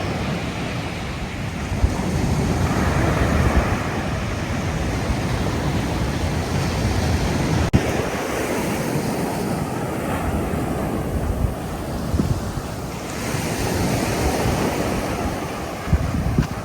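Ocean waves on Almayate Beach roll and crash in a continuous, loud surf with rising and falling swells, mixed with gusts of wind buffeting the microphone, and no voices.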